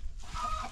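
Two older hens cluck softly at a motorhome campsite, a short, quiet burst of fowl sounds close by with low background rumble.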